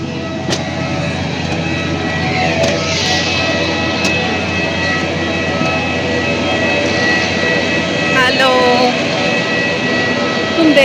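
An airplane lands at Hyderabad, its engines a loud, steady roar inside the cabin with faint voices beneath.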